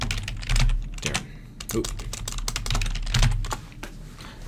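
Fingers type on a computer keyboard in quick, irregular bursts of clicking keystrokes, close by, with a brief spoken word or two in between.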